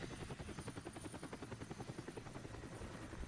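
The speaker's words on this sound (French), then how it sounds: "Et je repars en hélico." A helicopter departs in the video game Resident Evil HD Remaster, its steady rotor thumping pulsing evenly and continuously at moderate volume, with no voices over it.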